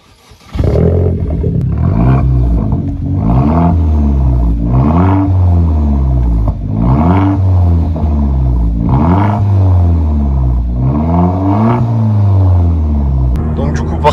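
An Opel Corsa OPC Nürburgring edition drives under its own power, its engine droning loudly and steadily, the pitch climbing and dropping repeatedly as revs rise and fall through the gears.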